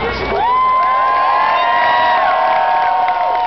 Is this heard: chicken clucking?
no